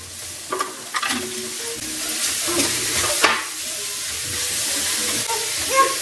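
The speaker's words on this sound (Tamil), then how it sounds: "இப்போ நம்ம சரி வச்சுருக்கிற கேரட்டு கோஸ் சேர்த்துக்கலாம்" Carrot and cabbage are stirred in a hot pan with onion, giving a continuous sizzle and hiss with occasional scrapes and clinks of the spoon, close and steady.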